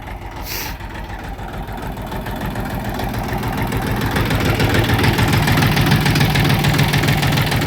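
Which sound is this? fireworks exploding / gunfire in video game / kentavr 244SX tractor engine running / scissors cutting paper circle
kentavr 244SX tractor engine running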